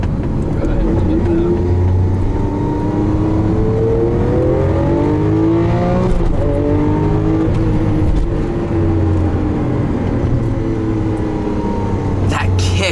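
A 2012 Lamborghini Aventador pulls hard through its gears, the engine note climbing in repeated rising sweeps broken by quick shift drops, loud and continuous from inside the car.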